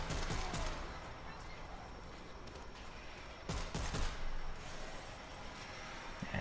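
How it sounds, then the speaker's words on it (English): Shotgun blasts ring out against a zombie horde in World War Z on PS4, with bursts of rapid gunfire clustered near the start and middle over a busy game background. "That shotgun really shreds them"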